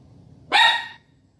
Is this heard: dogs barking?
yes